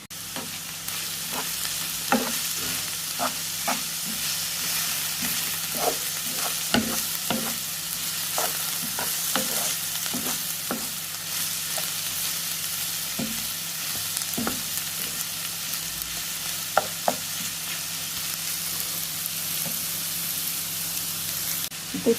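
Filling ingredients sauté in a hot pan with spices, giving a steady loud sizzle throughout, broken by frequent sharp scrapes and taps of stirring at an uneven rhythm, with no talking.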